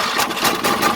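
An old riding lawnmower's small engine runs just after a long bout of cranking, a steady, rough, close-up drone with slight pulsing and no speech over it.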